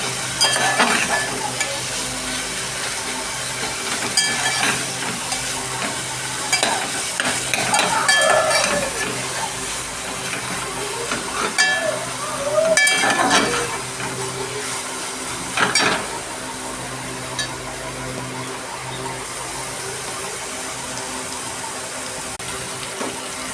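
Ground masala paste roasts with onions in a pan, giving a steady sizzle and frying hiss. Occasional stirring scrapes and clatters sound over it, close and fairly loud throughout.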